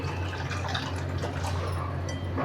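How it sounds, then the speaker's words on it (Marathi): Water poured into a pot of Boy fish curry, a steady continuous splashing pour with a low kitchen hum underneath, close and alone with no talking. "ह्याच्यात थोडंसं पाणी घालून घेऊ आपण याच्यात थोडंसं पाणी घालून देऊ"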